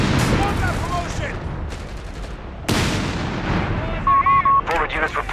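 Heavy artillery blasts and rattling machine gun bursts fill a Company of Heroes 3 battle, loud and dense throughout with a sharp new barrage near the middle and a few beeping alert tones near the end.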